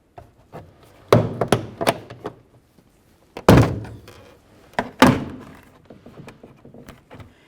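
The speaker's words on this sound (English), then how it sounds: "We'll make our way in between the door panel and the door and gently pry it apart." A series of sharp plastic pops and thunks as a trim tool pries a 2003-2007 Honda Accord door panel's clips loose, irregular and close, with two louder cracks standing out.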